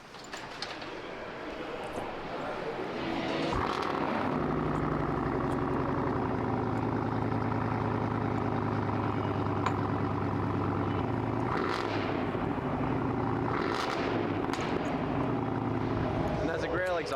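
A car fitted with a Grail exhaust runs at a car show, a steady loud engine drone with harmonic bands building after a quieter start, amid crowd noise and people talking nearby.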